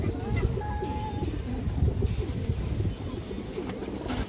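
Silver pigeons cooing in a loft, low soft coos repeated over a busy, rumbling background with a few higher bird chirps; muffled voices may be mixed underneath.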